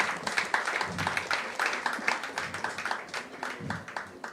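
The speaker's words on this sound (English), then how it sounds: "And please applaud for them." An audience at a breast-care centre inauguration applauds in steady, dense clapping that stays moderately quiet and continuous throughout, with no talk over it.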